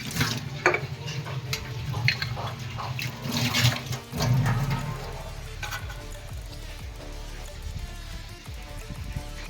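Water runs and splashes into a container for a few seconds, then gives way to a steady sizzling hiss and light stirring noises.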